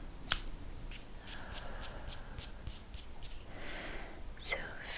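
Scissors snipping during an ASMR Reiki cord-cutting session, a rapid series of crisp, close, quiet clicks and snips, roughly ten in quick succession, with a soft breathy whisper near the start and end.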